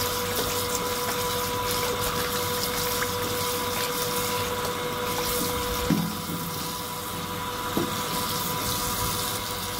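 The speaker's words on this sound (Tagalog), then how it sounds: "Hugasan po natin guys ng 2 hanggang 3 beses guys" Choy sum is rinsed in running water, with a steady close rush and gush from a tap. Occasional soft knocks and splashes come as the vegetables are handled, and no one speaks.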